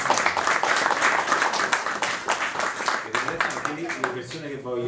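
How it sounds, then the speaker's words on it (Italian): An audience at a book presentation on Palestine gives a warm round of applause that fills the first half, then fades as a person begins talking. "facciamo un applauso a Antonio"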